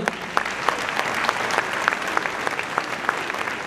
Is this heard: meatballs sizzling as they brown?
no